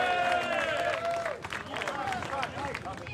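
Crowd applause and cheering for an award winner at a motorcycle festival, with a loud whistle or tonal squeal at the start, claps spreading across the crowd and voices mixed in.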